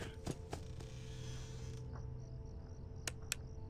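In the Five Nights at Freddy's 4 horror game, a door gives a drawn-out creak against a low hum of background noise, followed by a few sharp clicks.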